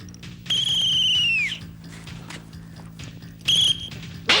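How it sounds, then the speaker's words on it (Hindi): Two loud, shrill whistle blasts sound close up: the first lasts about a second and tails off downward, and after a quiet gap a shorter second blast follows. "तूने सीटी क्यों बजाई?"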